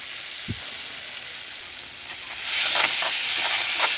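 Boiled rajma (kidney beans) cooked with raw potato tips into a hot pan, setting off a broad steady sizzle that swells louder about halfway through and keeps hissing with faint stirring, no voices.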